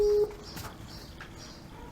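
A Skype call redialing tone: a steady electronic tone sounds for about a quarter second at the start, then a quiet stretch of faint room noise, with the tone just beginning again at the very end.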